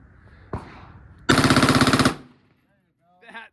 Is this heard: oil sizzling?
no